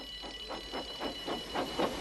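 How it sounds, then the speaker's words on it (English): A rhythmic ringing alarm pulses about every quarter second, steady and moderately loud, with no voices. "Soon came the alarm."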